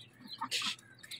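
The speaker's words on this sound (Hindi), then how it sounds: "ये तो एक हमारा मुर्गा है और मुर्गा बहुत ही लड़ाका है" A fighting rooster gives a few short, quiet clucks at close range in a bird setup, with brief pauses between calls and no speech.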